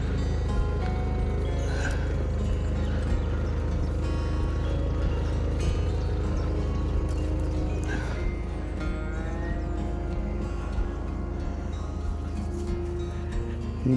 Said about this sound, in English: Engine ticking over nicely.